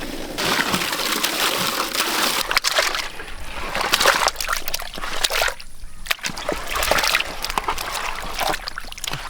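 Fish pieces being washed in a vessel of water, with repeated close splashes and sloshing in irregular bursts and brief pauses, plus scattered clatter and handling noises.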